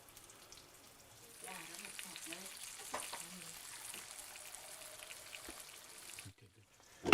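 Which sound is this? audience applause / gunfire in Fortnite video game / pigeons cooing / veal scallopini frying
veal scallopini frying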